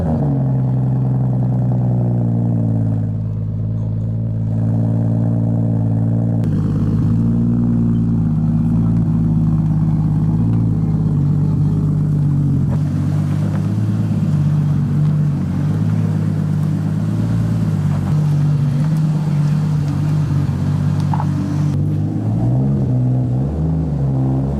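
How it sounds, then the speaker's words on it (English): A Toyota Chaser with a 1JZ/2JZ inline-six, raised on a lift, idles loud and close with a deep steady rumble, rising in a few revs and settling back, with no talking. "Gonna start her up. Listen to some 2J/1J goodness."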